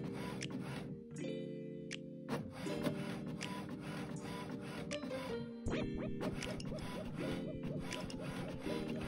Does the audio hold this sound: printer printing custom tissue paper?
yes